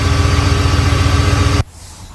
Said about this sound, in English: Here's a video of me stopping a viscous coupled fan while the engine's running with my hand